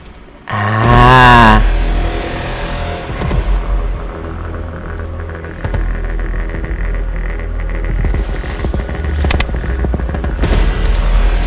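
A loud deep boom of a planted bomb in a video game bursts early, followed by a long rumbling roar that lingers and swells again toward the end.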